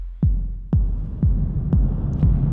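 A heavily distorted kick drum with a roar-style saturation effect thumps five times at an even pace, each hit a deep booming punch with a gritty decaying tail.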